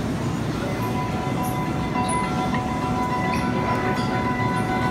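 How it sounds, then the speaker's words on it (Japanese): Takasaki-bound local train on platform 8 at Omiya station, a steady loud rumble of rail cars with faint high tones and platform bustle, people murmuring beneath. "8番線から普通電車高崎行き発車いたします。"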